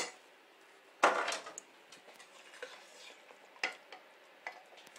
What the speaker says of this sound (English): now I'm gonna add the meatballs with my slotted spoon